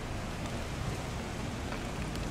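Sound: rain falling outdoors

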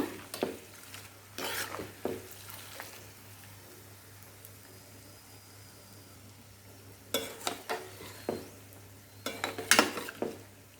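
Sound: tempering frying in pan for gooseberry pickle

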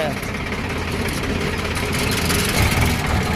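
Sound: tractor engine running

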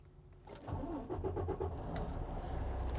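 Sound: truck engine cranking and starting

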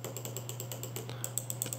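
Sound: Delux M631 gaming mouse button clicks

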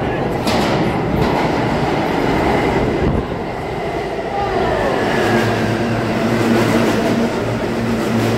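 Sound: subway train passing

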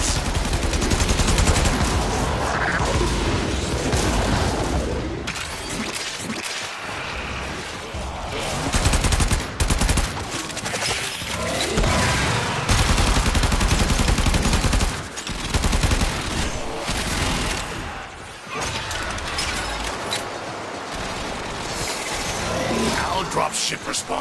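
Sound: artillery and gunfire in the Warframe video game

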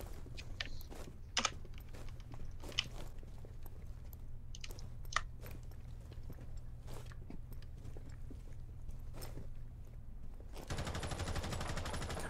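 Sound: gunshots in Rainbow Six Siege video game

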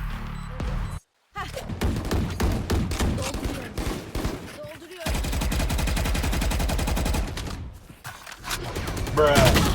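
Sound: gunfire in a video game

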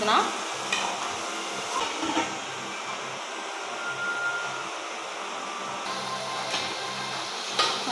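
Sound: chopped tomatoes frying and being stirred in pan

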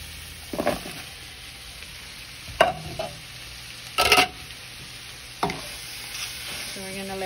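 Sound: cabbage sauteing and being stirred in a pan for pancit

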